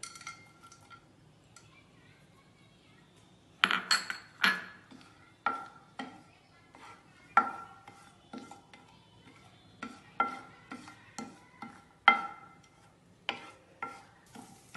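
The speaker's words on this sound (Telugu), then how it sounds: "డ్రై ఫ్రూట్స్ వేసుకొని దోరగా వేయించుకుందాం" Dry fruits frying in two spoons of hot ghee for papaya halwa: a faint sizzle under repeated sharp clinks and scrapes of a spoon against the pan, spaced irregularly.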